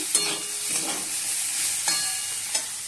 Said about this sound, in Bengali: এই মধ্যে উচ্চে আলু ভাজা বসিয়ে দিয়েছি